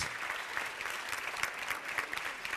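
Brief, fairly quiet applause from the audience at a film award ceremony, a dense patter of many hands heard from a distance with no talking.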